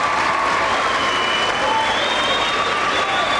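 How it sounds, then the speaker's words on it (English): Dense, sustained applause from a large commencement audience greeting scholarship winners at Admiral King high school's 1998 graduation, even and continuous throughout with no pauses. "Give them a round of applause."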